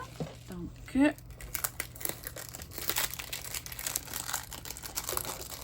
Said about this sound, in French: Ça vient dans un papier plastique comme ça.